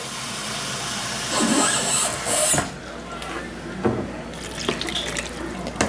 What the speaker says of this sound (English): Meanwhile, I get the hot water.